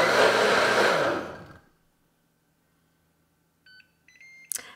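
A high-speed blender on its extract setting purees potato soup in a loud, dense whir for about a second and a half, then cuts out abruptly. A few faint electronic beeps follow near the end.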